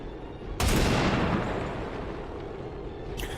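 A single heavy blast of gunfire in XCOM 2: War of the Chosen, a sharp loud onset followed by a long rumbling decay, with another burst starting at the very end.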